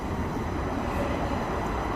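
Steady, broad rumble of a moving train carrying passengers into Stockholm at dusk, continuous and fairly loud with no talk over it.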